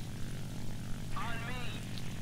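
A J2M3 Raiden propeller fighter in the War Thunder game drones steadily as a low, constant engine hum beneath a person talking.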